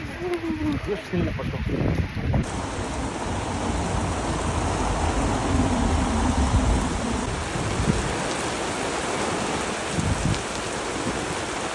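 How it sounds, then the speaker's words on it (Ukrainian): Steady heavy rain hisses loudly and continuously on a walk in Karlovy Vary, with a voice talking briefly under the downpour near the start. "Ми вийшли гуляти і нас дощ накрив. Йде дощ."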